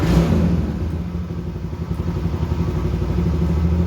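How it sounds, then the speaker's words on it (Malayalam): A TVS Ntorq 150 race edition scooter engine idles right after starting, a close, steady mid-pitched putter with a rattly clatter throughout, running alone without voices. "ഇതാണ് ഇതിൻ്റെ സ്റ്റാർട്ടിങ് സൗണ്ടും ബഹളമൊക്കെ"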